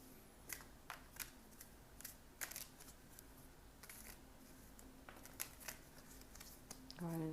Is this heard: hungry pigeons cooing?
no